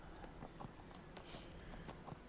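Faint rhythmic clip-clop of horse hooves trotting at a steady pace in the video game Neverwinter, distant and soft under a noisy background.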